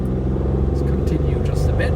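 A 1972 Citroen SM rumbling past close by, a loud low engine drone across the moment, with someone talking over it.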